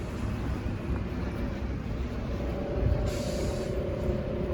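A Supertram on the Meadowhall line, near a station with park and ride, rumbles past in a steady low roar that stays loud and even throughout, with a brief brighter hiss of wheels or brakes toward the end.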